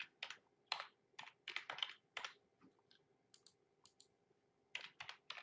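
Someone types on a computer keyboard in short, irregular bursts of crisp key clicks, close and quiet, with pauses between words and no talking.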